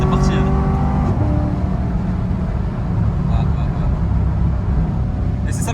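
A Corvette C7 Stingray with a naturally aspirated engine, imported from the USA and not entirely stock, roars loudly and steadily as it climbs through the revs from inside the car.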